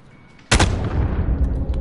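Gunfire in a first-person shooter, a single sharp loud shot cracking in after a quiet moment, followed by a rumbling echoing tail and scattered further noise.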